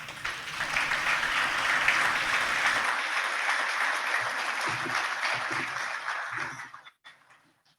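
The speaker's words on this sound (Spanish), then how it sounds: "Recibámoslo con un fuerte aplauso." An audience at a medical lecture on newly diagnosed type 2 diabetes applauds to welcome a speaker. The clapping is loud and sustained, then thins out and stops into near silence.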